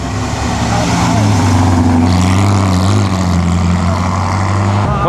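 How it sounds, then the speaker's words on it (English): A Maserati car roars along during the Mille Miglia road race, its engine a loud, sustained drone close by with shifting pitch as it accelerates, with people talking over it. "There's a Maserati coming behind us."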